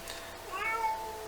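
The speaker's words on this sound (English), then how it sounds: "my cat is making noise" A pet cat gives one short, rising meow, faint and somewhat distant over a low background hum.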